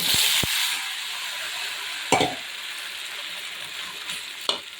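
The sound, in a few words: avalakki (flattened rice) frying in pan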